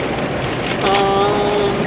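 Heavy pouring rain falls outdoors near a road, a steady dense hiss filling the whole stretch, with a brief tonal whine rising partway through over the downpour.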